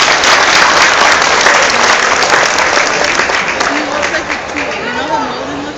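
Audience at a Greek live music performance applauds the musicians, dense loud clapping and crowd chatter sustained throughout, tapering slightly toward the end as a faint voice emerges.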